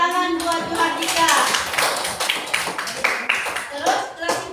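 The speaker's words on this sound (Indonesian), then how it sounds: "tepuk tangan buat Juhardika" A classroom of students claps for a classmate, a short burst of close, uneven hand claps mixed with voices talking over it.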